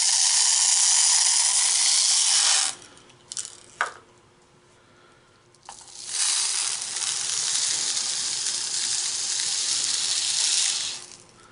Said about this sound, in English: And then we're going to pour in our shot. We're using number 8 lead shot.